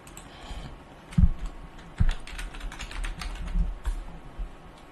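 A password being typed on a computer keyboard, a steady patter of soft key clicks with a few heavier thumps, close by and with no talk.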